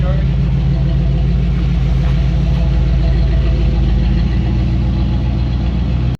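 A 1971 Plymouth Valiant engine idles steadily nearby, a low continuous rumble with an even mechanical hum that holds without change for several seconds.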